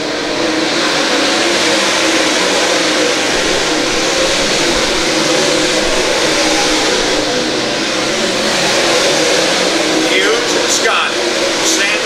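Dirt track race cars roar around an oval during a 40-lap feature, a steady loud wall of engine noise with the pack running close together, under continuous announcer commentary.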